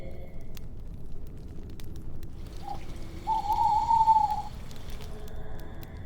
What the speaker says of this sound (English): doing what barred owls do at midnight in the middle of the woods